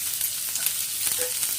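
Half a large onion sautéing in hot oil for a chapati gravy, a loud, close, continuous sizzle with a faint scrape of stirring partway through.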